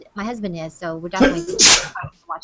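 A single sharp sneeze bursts out between stretches of close conversational speech, loud and brief near the middle of the exchange.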